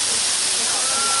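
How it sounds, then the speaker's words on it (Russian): Powerful water jets of a circular shower at a thermal spa in Nha Trang, Vietnam, a loud close steady spraying hiss filling the whole moment. "Со всех сторон мощные струи."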